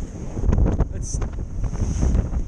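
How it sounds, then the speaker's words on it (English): Strong wind buffets the microphone on a sailboat at sea off Hawaii, a loud steady roar with gusty surges and faint water wash beneath. "the wind's picked up a lot"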